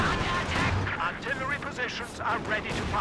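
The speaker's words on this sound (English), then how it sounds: "Monster Katyusha barrage there" Katyusha rocket barrage in Company of Heroes 2, a string of rumbling rocket launches and blasts mixed with battle noise, running under steady commentary.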